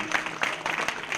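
An audience at a kirtan gathering claps in a steady patter of overlapping hand claps, moderately loud and close, with a faint voice underneath.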